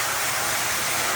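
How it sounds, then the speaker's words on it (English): Hot water pours into an already hot cooking pot, making a steady rushing splash that stays loud and even throughout, with no voices. "I'll put enough water in the pot."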